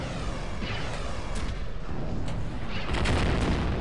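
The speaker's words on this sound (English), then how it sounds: "Good timing of all the grenades coming in." Grenade explosions in the video game Star Wars Galaxies, rumbling booms and blasts overlapping in a dense barrage, loud and close, with several sharper hits near the end.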